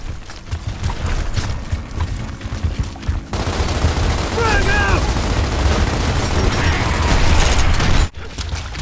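Gnasher shotgun fire from the Gears of War video game, a few heavy blasts inside dense, loud combat with mechanical clatter and chaotic bursts, ending abruptly, with game noise throughout.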